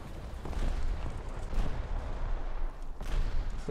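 Explosions and heavy blasts from bombs in a tank combat video game featuring the air-dropped M56 Scorpion tank destroyer, a dense, continuous roar of booming detonations with several louder bursts standing out.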